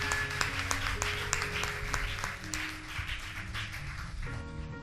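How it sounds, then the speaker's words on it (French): A church congregation claps for the Lord Jesus during a worship service: dense, steady applause of many hands throughout, with faint music tones beneath and a slight thinning near the end. "Acclame le Seigneur Jésus. Clap for the Lord Jesus."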